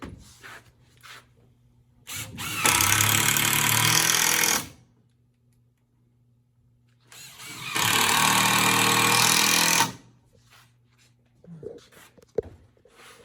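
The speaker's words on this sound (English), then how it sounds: "I can go ahead and finish securing this first back slat. 4 screws in each back slat." Power drill driving screws into a wooden Adirondack chair back slat, two loud whirring bursts of about two seconds each separated by quiet, with small handling knocks between.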